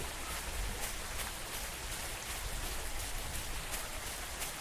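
Steady rain falls in the horror video game Pipe Head, an even, continuous hiss of drops with no talking over it.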